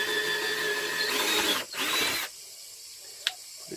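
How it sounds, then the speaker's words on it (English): A power drill bores drainage holes through a bonsai pot, a whining grinding run for about two seconds with a brief pause, then it stops; a small click follows, close, with no talk. "and all we're doing is drilling some drainage holes"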